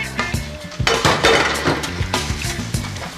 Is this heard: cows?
no